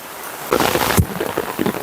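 Heavy rain falls in a forest, with a sudden loud burst of downpour and a brief low thump amid the steady hiss, no voices.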